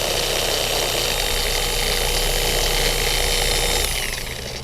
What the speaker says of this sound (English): That gives you a better idea of how the polisher teams up with the pad